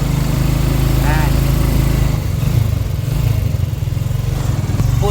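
A motorized tricycle's engine chugs and rattles loudly up close while riding through city traffic, a steady mid-pitched drone with a brief horn-like chirp near the start.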